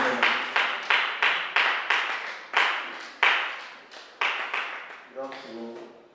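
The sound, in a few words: audience clapping to welcome a speaker on stage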